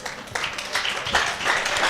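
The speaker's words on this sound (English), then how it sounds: "I need us to give them a standing ovation with a clap" An audience clapping in appreciation of lecturers at a biochemistry event, a brief burst of fairly faint applause from a room full of people.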